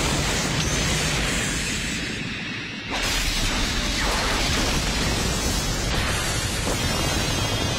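A dense, roaring blast from a Sagittarius arrow in Saint Seiya anime, a broad wash of noise that briefly dips and then surges back into a sustained, loud rumble.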